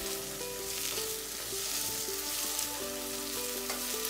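Tomatoes being stirred as they fry in a pan for Indian kebab, giving a steady close sizzle that runs the whole time with faint tonal notes underneath.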